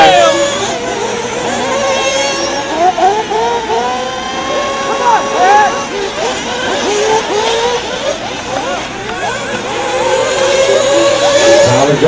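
Nitro RC buggy engines race around a supercross track in a Pro Nitro Buggy A-main, their high, whining revs rising and falling continuously as several cars pass, with a commentator's voice running over them.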